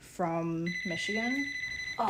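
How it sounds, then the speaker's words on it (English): A phone alarm beeps loudly in a repeating electronic pattern, its tones stepping and pulsing, while a person keeps talking over it. "that's my alarm."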